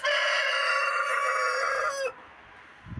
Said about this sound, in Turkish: Horoz.